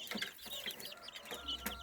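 Young chicks on a farm peep and cluck in quick, high, repeated calls while drinking water, close by and fairly soft.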